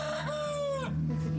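A rooster crows once, a clear drawn-out cock-a-doodle-doo heard up close, followed by a steady low hum and some background noise.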